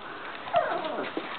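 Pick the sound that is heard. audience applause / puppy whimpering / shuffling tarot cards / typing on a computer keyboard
puppy whimpering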